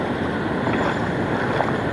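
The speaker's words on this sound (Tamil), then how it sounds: "தண்ணி பயங்கரமாக இழுக்குது" Strong river current rushing past a riverbank in a village in the evening, a steady, loud, unbroken roar of churning water close by with some wind buffeting the microphone throughout.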